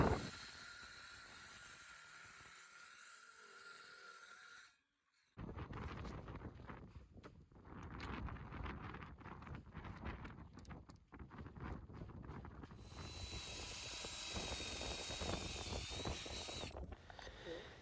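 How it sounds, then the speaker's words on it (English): Gusty wind buffets the microphone in a continuous roar, dropping briefly to near silence before rushing back stronger, heard on a boat. "It's really windy"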